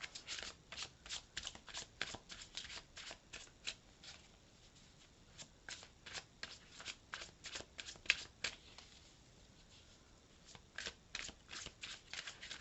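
A deck of oracle cards is shuffled by hand, giving repeated soft riffling bursts in a quiet room, with a short pause midway before the shuffling resumes.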